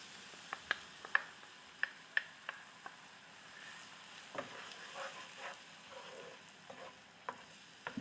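Masala mixed with yogurt, ginger-garlic paste and garam masala fries in a pan for a restaurant-style egg gravy, a soft sizzle under sharp, irregular clicks and scrapes of a spoon stirring against the pan.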